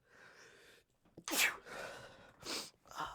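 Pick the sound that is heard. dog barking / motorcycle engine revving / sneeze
sneeze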